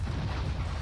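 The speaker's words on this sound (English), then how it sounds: "It exploded." A deep, rumbling explosion in the video game Beyond: Two Souls, a sustained low boom filling the short moment without any talking.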